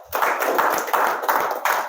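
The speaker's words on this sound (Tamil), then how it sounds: "பெரிய கைத்தட்டு கொடுங்க." An audience claps its hands in steady applause, a dense and fairly close wash of claps with a loose rhythmic pulse that swells in regular bursts.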